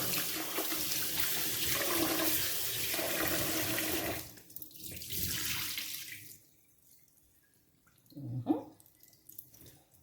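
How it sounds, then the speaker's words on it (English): A tap runs into a bowl while white rice is rinsed by hand, with a steady stream of water for about four seconds that fades into quieter trickles and a brief splash near the end. "You rinse that real quick,"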